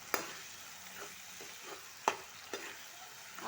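A spatula mashes cooked bottle gourd in a hot pan over a soft, steady sizzle, with several sharp taps and scrapes against the pan spaced irregularly and no talking.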